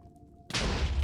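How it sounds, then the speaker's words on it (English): An explosion in the video game Minecraft erupts suddenly after a quiet moment, a loud, broad, sustained blast that fills the rest of the brief moment. "Ah! The explosions!"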